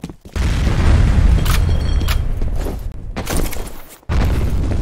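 A grenade explodes in F.E.A.R. on the Combat Streets map with a heavy near boom and a long rumbling tail, then a second burst of blast noise after a short gap.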